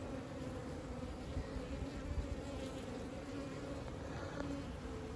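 Worker honey bees buzz inside a hive, a dense, continuous low drone of many wings humming together at close range, steady and even with no voices.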